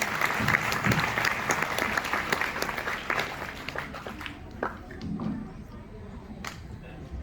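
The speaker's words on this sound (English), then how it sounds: "Please give them a huge round of applause." Audience applause at a school annual function, dense clapping that starts strong and thins out toward the end into scattered claps, with faint voices beneath.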